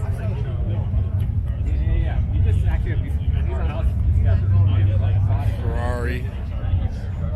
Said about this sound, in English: More Lambos.